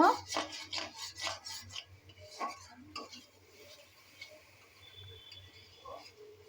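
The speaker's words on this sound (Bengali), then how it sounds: "এখানে মশলাটা কষানো হচ্ছে মাছের তরকারির জন্য" Spice paste for a fish curry is stir-fried in a pan, with quick rhythmic scraping strokes at first that thin out to fainter, scattered scrapes over a low background hum.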